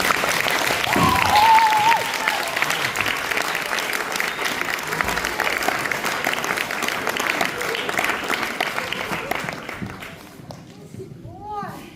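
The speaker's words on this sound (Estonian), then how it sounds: "teeme väga suure aplausi meie haritustele" An audience gives sustained, loud applause as teachers are called onto the stage at a school stage event, dense clapping that gradually thins and fades toward the end.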